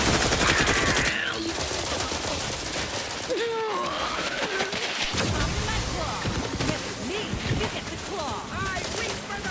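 Sniper and other gunfire in the video game The Outer Worlds 2, with repeated sharp shots and bursts in a dense, noisy firefight, plus groans and voices over the top.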